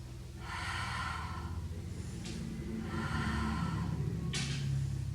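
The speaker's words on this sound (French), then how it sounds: "on souffle en montant, on inspire en descendant" Audible breathing during a mat Pilates leg-lift exercise done without equipment, with two long airy exhales and quick inhales between them, close and moderately quiet in a slow regular rhythm.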